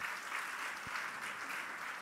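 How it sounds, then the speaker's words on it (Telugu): A church congregation clapping in praise of God during a Telugu sermon, continuous dense applause at a fairly quiet, even level with no voices on top. "చప్పట్లు కొట్టి దేవుని స్తుతించండి"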